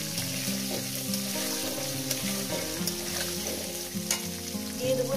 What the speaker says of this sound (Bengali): আলুগুলো দিয়ে আমি সুন্দর করে লাল লাল করে ভেজে নেব